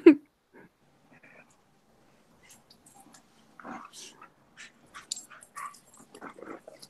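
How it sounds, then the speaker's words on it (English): A dog whimpers and huffs softly in a quiet room, with a sharp close yelp at the start and scattered faint whines and snuffles later, while people chat faintly in the background. "I can hear that dog."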